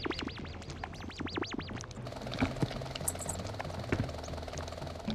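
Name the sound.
helicopter sound effect of vehicle in video game Vangers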